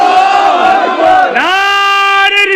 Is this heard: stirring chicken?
no